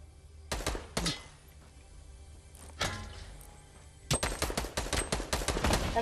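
Assault rifle fire in Fortnite: a couple of quick bursts early, a lone shot, then a long run of rapid, loud automatic shots close by, with no talking.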